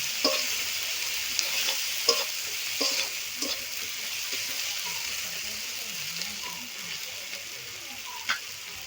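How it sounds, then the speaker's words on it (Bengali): Spice paste with chilli powder sizzles and fries in a pan while a spoon stirs it, giving a steady close crackle with scattered scraping clicks and taps; no talking. "মশলাটা ভালো করে কষিয়ে নিতে হবে"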